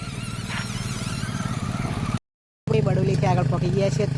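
A motorcycle engine runs a kachariyu-making contraption in Gujarat, giving a steady, close mechanical drone with clatter. Talk continues over it throughout, and the sound cuts out briefly before resuming.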